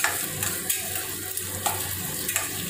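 Chopped onions frying in a pan for a spicy chicken fry: a continuous close sizzle broken by sharp stirring clinks and scrapes at irregular intervals, with no one talking.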